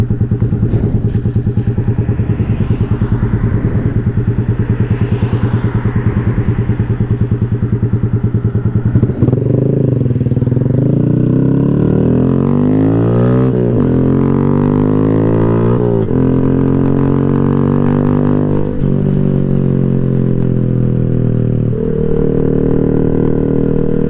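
A motorcycle engine runs loud and close, idling steadily at first, then revving up in repeated rising and falling surges as the bike rides off, with a few thumps along the way.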